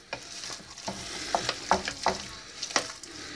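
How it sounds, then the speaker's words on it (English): Cooked bacon is stirred into mac and cheese in a pot, making soft, close, wet scraping and squelching spoon strokes in a brief irregular rhythm. "And then we're gonna stir it,"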